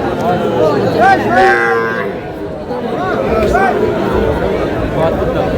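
Young bull calves moo several times, loud and close, over a busy cattle-market crowd murmuring in the background.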